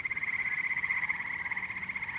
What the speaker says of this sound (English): Frogs or toads, something. Listen.